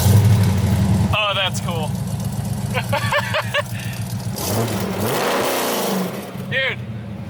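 A car engine fitted with new headers idles with a steady low rumble and blips into revs, heard up close with voices talking over it throughout.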